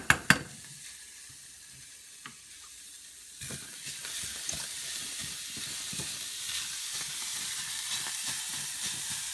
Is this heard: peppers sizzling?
yes